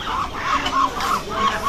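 Domestic hens cluck near a hidden pile of freshly laid eggs, giving a series of repeated, fairly close clucks in a loose rhythm with no voices over them.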